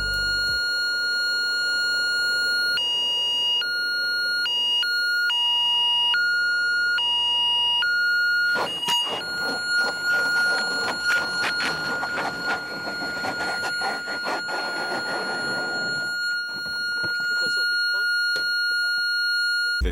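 A landing gear warning alarm sounds in a light aircraft cockpit, repeating electronic beep tones in an irregular pattern, broken midway by loud bursts of scraping and rumbling, then continuing as a steady tone.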